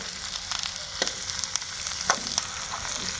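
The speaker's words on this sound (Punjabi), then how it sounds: "ਲਓ ਆਪਣੇ ਗੰਢੇ ਫਰਾਈ ਹੋ ਗਏ" Onions frying in a pan for karela sabji, a steady soft sizzle with a few brief sharper crackles and stirring clicks, close and alone with no talk.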